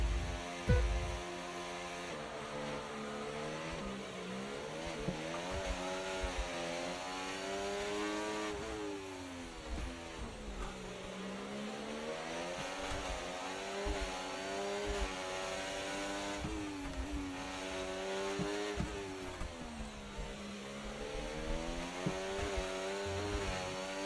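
McLaren race cars in a racing video game roar off the line together at the race start. Layered high-pitched engine notes rise and fall steadily as the pack accelerates, loud and continuous throughout with no talking.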